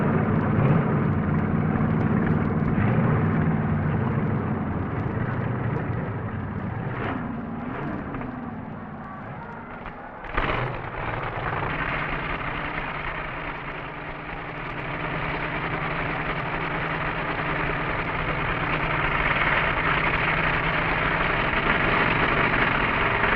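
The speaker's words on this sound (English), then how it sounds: "Dick Nicolosi, behind the wheel of his Chevy-powered B Dragster, gets a call to the starting line from a member of the Dust Devils Club." Chevy-powered B dragster engine rumbling steadily at a drag race starting line, a loud continuous roar with a sharp surge partway through, then holding a strong sustained drone.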